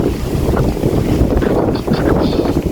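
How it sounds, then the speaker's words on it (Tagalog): Strong wind buffets the microphone in a constant rough roar in an outdoor plant garden, gusting and rumbling without pause. "sobrang lakas ng hangin"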